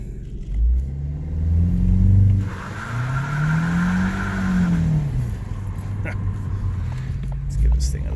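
A 2014 Ford Escape accelerates hard as its wheels spin, the engine note rising and falling through the gears with tire noise, close and loud, while a person talks over it.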